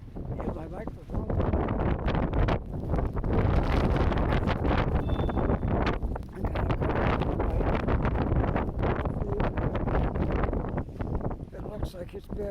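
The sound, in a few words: wind blowing on microphone during a nor'easter snow storm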